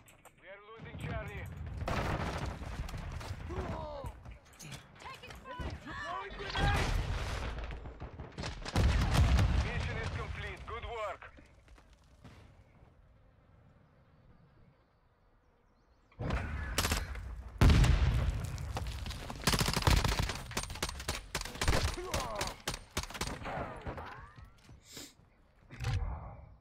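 Dense gunfire in the video game Modern Warfare 2, with rapid bursts and booming shots in two loud stretches separated by a quieter lull, under voices talking over the action.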